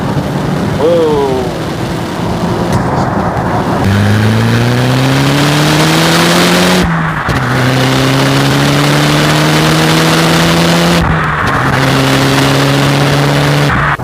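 Nissan GTR engine revving hard through the gears on a dual carriageway, rising pitch sweeps climbing repeatedly with brief drops at each shift, loud and continuous from inside the car.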